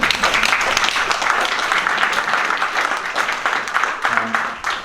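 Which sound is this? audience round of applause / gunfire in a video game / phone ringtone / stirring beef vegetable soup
audience round of applause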